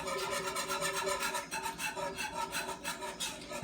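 A whisk beating a creamy chicken and vegetable soup base in a pot, producing a continuous rapid scraping and rubbing rhythm, close and fairly loud, with no talk.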